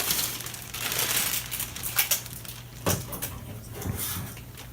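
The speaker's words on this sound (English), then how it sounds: "we're going to start out with a couple of short pieces of tape" Short pieces of tape being torn from a roll while weatherizing a window: a few crisp, dry ripping and crinkling bursts close by, separated by quieter handling noise, with no talking.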